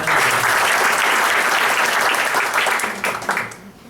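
A seated audience at a motivational talk claps in a loud, dense burst of applause that holds steady, then tapers off into scattered claps and fades out at the end.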